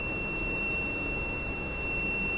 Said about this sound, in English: if you want to stop the buzzer, just reset this button